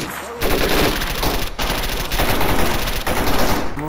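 Sustained automatic gunfire in S.T.A.L.K.E.R. Anomaly 1.5.1, a dense, loud stream of rapid shots running almost unbroken for several seconds with only brief gaps.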